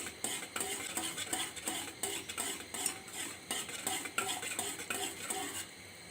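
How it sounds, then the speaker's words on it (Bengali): Milk reduced from one litre to half, thickened with flour and cornflour, stirred nonstop in a pot; a busy clatter of a utensil scraping and knocking against the metal, steady and close, with faint sizzling underneath. "এটা এখন অনবরত নাড়তে হবে।"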